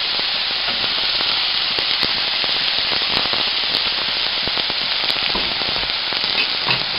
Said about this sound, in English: I'm going to fry this as well